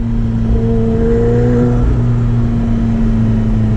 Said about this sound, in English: Maybe we'll do one quick acceleration here.